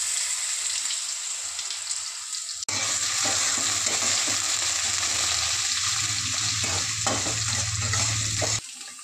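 Potatoes drop into hot oil for a vegetable breakfast dish, setting off a loud, dense sizzle that jumps up abruptly and continues steadily close by, with faint stirring underneath.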